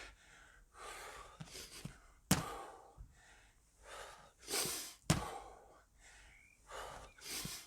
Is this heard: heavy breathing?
yes